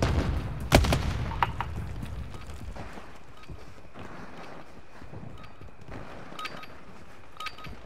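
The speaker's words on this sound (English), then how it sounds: "Hand grenade out!" A hand grenade blasts in Call of Duty, one loud deep boom near the start that rolls off into a low rumble, followed by scattered faint battlefield crackles and distant pops.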